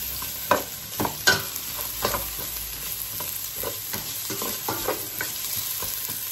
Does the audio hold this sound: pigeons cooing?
no